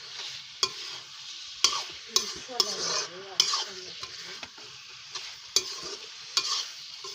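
Chicken liver curry fries over a high flame in a pan, with a spoon or spatula clacking against the pan in sharp, irregular strokes over a constant loud sizzle, close up and with no voices.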